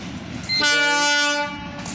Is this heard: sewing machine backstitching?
no